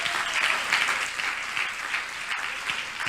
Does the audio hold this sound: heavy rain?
no